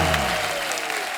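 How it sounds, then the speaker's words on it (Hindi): Studio audience applause on a comedy show, a brief dense burst of clapping with voices lingering underneath at the start, loud and close. "जोरदार तालियां होनी चाहिए।"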